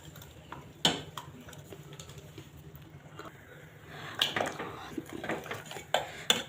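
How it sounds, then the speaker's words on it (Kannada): Ground coconut paste goes into a pot of vegetable and lentil sambar, with a metal spoon clinking and scraping against the pot in irregular taps and a few louder knocks. "ರುಬ್ಬಿಟ್ಕೊಂಡಿರೋ ಕೊಬ್ಬರಿನೂ ಇದರಲ್ಲಿ ಹಾಕಿ"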